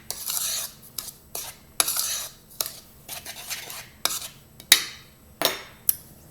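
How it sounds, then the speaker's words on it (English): A metal spoon scrapes and clinks around a bowl while stirring salt and flour together for homemade playdough, in repeated rhythmic gritty strokes with sharper taps, close and fairly loud, no voices. "I have my spoon here and I am just mixing my salt and my flour together"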